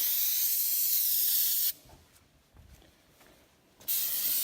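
Two bursts of aerosol spray from a protectant can coating the metal axles and frame of a Razor XP 1000 side by side, loud steady hiss at start and end with a quiet gap between.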